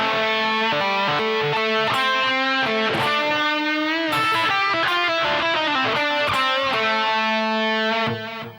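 A sustained, distorted electric guitar plays a flowing solo phrase with bends and quick runs, loud and continuous before fading at the end.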